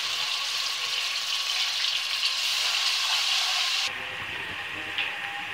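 Garlic paste frying in hot oil left from fried onions, a steady close sizzle and hiss that softens a little toward the end, with no talking.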